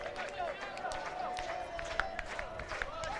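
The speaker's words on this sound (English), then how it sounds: "We can hear the crowd getting into it." A small but dedicated home crowd cheers and shouts at an outdoor ultimate frisbee game between the Austin Sol and the Tampa Bay Cannons, a steady mix of voices with scattered claps and sharp calls throughout.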